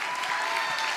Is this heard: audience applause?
yes